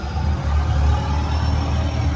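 Mahindra Bolero BS4 diesel engine running after starting, a steady close low idle rumble with slight throbbing unevenness throughout, no talk.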